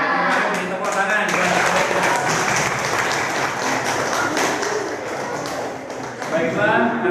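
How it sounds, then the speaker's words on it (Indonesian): Students in a classroom clap their hands together in a loud, dense burst that holds throughout, with children's voices chattering and calling out over the clapping. "Tepuk tangan."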